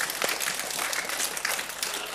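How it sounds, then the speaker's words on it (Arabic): A small group applauds a child at a children's show with brief, soft, scattered clapping that lasts about two seconds. "تصفيق على بوبي"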